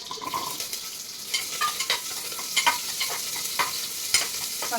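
Ivy gourd (tondli) stir-fried in a little oil in a small pressure cooker on a gas stove makes a steady sizzle, broken by scraping stirs of a spoon that recur every second or so, close and alone.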